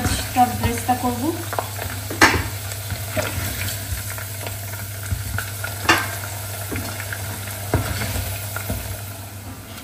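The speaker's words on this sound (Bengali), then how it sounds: "এরপর আমি পেঁয়াজটা ব্রেস্তা করবো" Onions frying in a pan for biryani give a continuous close sizzle with occasional scraping stirs and a steady low hum underneath.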